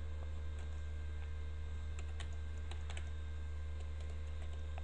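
Fingers type on a computer keyboard, quick irregular key clicks and taps scattered over a steady low electrical hum, with no one talking.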